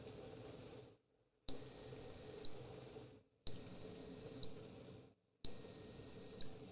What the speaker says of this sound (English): It beeps 3 times and it automatically shuts itself off.